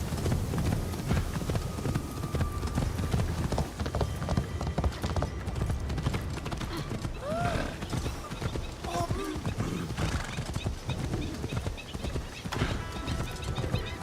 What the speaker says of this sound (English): riding a horse through the main street of a town